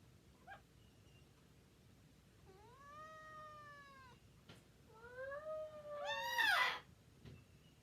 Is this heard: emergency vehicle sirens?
no